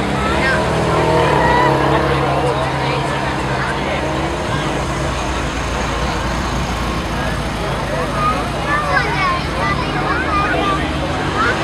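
A boat motor runs steadily and loudly throughout, a continuous low drone under water and wind noise, with people talking over it.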